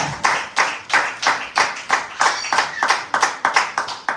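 A church congregation claps in a steady, rhythmic beat, about three claps per second, loud and close, with no talking over it.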